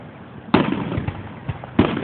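Fourth of July fireworks burst in two sharp, loud blasts about a second apart, each followed by crackling rumble and smaller pops, with no talking.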